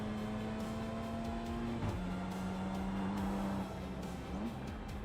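A four-cylinder race car engine in an eNASCAR sim racing game drones steadily and close, its pitch shifting down around two seconds in and briefly climbing again near the end, with no talk.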